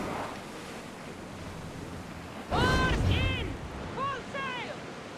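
Sea waves surge and wash around a sailing ship at sea in Assassin's Creed Odyssey, a steady broad roar under wind that swells louder partway through, with a voice speaking over the water.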